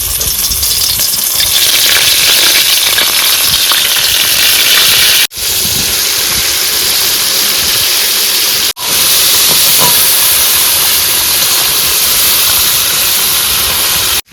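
Crabs coated in salt and turmeric fry in hot oil at a Sundarbans picnic, giving off a loud, continuous sizzling hiss that is cut off sharply twice.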